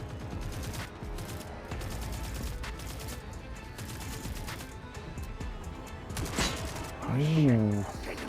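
Video game gunfire crackles in dense, rapid bursts throughout, a busy fusillade of shots with a voice briefly speaking near the end.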